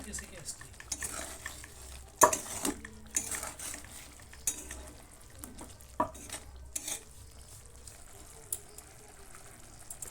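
Coriander chicken being stirred in a pan with a spoon, giving irregular scraping and clanking strokes over a low, steady sizzle, close and moderately loud with no talk.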